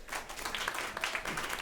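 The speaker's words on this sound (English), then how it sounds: "Round of applause." Audience applause breaks out after a host's call for a round of applause at a conversation event on food and agriculture, a dense, steady wash of many hands clapping throughout, moderately loud.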